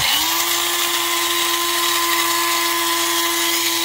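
An electric coffee grinder works through whole coffee beans with a loud, steady, high motor whine that spins up at the start and holds evenly throughout, close to the listener.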